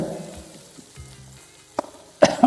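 Quiet, low frying of a mutton and chili powder mixture in a pan, with a couple of sudden sharp scrapes and clatters of stirring breaking in near the end.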